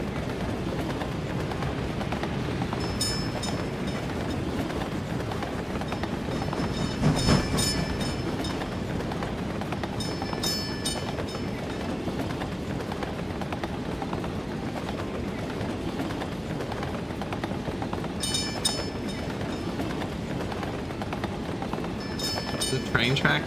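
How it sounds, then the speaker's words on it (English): Steady rolling train rumble on track in the Workers and Resources game, a continuous clattering drone with a few brighter metallic squeal bursts, heard under conversation throughout. "The train track noise always reminds me of that friggin'..."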